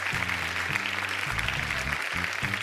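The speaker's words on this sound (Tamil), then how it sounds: "அவருக்கு ஒரு பெரிய கைத்தட்டல் கொடுத்துடலாம்." A stage audience gives a singer a big round of applause on a televised singing competition, Super Singer 10, as dense, continuous clapping washes over sustained music for the whole short stretch.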